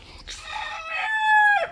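A fighting rooster, a yellow-legged Talisay gamecock, gives one loud, close cock-a-doodle-doo crow in a backyard, rising and holding before breaking off.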